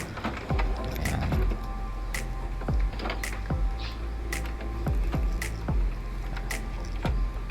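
An HP Ink Tank 415 printer runs a head cleaning cycle, giving repeated mechanical clunks and short whirring motor bursts at uneven intervals over a low steady hum, close and fairly loud.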